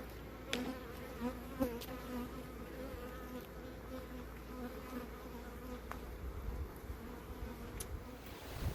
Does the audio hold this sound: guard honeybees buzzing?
yes